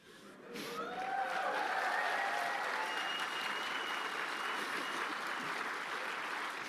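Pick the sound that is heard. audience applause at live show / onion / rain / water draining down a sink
audience applause at live show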